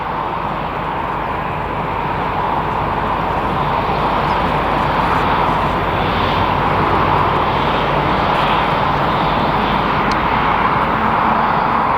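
An airliner in SkyTeam livery at Madrid Barajas Airport, a steady broad jet engine roar building slightly in loudness over the whole stretch, heard from a distance with no talk.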